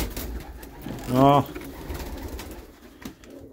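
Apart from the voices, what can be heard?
pigeons cooing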